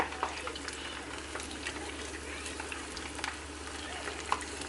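Apple pie egg rolls frying in a pan over medium-high heat, a quiet, steady sizzle with faint pops and crackles throughout and no talking.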